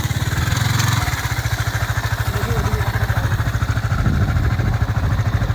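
A motorcycle engine idles nearby on a Ganges river sandbar with a fast, steady low putter and a rhythmic mechanical clatter throughout.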